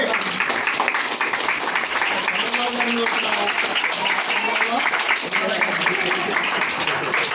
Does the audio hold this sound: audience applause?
yes